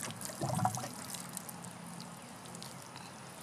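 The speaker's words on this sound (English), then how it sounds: "This is a mixture of water and seaweed." A water and seaweed mixture is poured onto freshly planted turmeric in a container, a faint brief splash followed by quiet trickling and soaking, with no talk.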